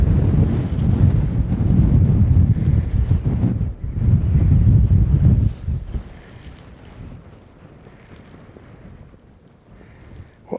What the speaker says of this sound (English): but there's a nice breeze.